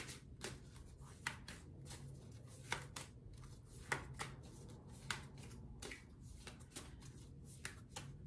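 A deck of cards is shuffled in a steady rhythm of crisp riffles and soft taps, close and quiet, with no talking.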